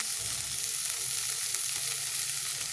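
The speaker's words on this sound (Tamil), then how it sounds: "நல்லா வதங்கிக்குவோம் நல்லா வதங்கினா தான் அதோட டேஸ்ட் நல்லாயிருக்கும்" Drumstick leaves and large onion sautéing with salt in a pan, a steady close sizzle with soft stirring movements underneath, heard alone without voices.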